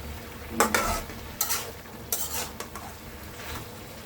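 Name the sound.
stirring spice masala into leafy greens in a pan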